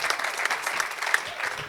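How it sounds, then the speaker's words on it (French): Applause from a live hypnosis show audience, a dense steady patter of clapping that swells slightly in places, with no voices over it. "Les acclamations s'imposent."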